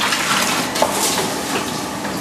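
Water gushing steadily into large containers of cut potato chips in a fish and chip shop kitchen, a continuous loud broadband rush with no talk over it.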